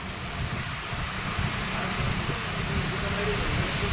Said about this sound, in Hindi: तो यहां पे बहुत ज़्यादा बारिश हो रही है आज।